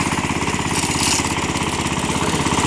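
A walk-behind tractor engine running while it drives along a winter road, with a loud, close, rapid chugging beat that holds steady and has no talk over it.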